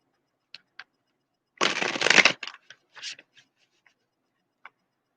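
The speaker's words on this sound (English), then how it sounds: "I'm going to give this one more good shuffle." A single brisk riffle of playing cards being shuffled, close and crisp, surrounded by light taps and clicks of cards handled.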